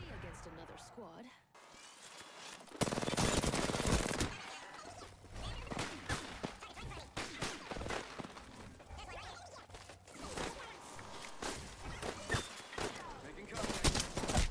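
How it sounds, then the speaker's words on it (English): Gunfire in the video game Apex Legends crackles in dense, loud bursts and rapid volleys nearly throughout, with crashes mixed in and a player talking over the shooting. "They're shooting at me."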